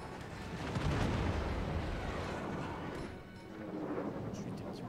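Naval cannon fire in World of Warships, a heavy rumbling boom sustained across the stretch with rolling low-end blasts and a slight dip before swelling again.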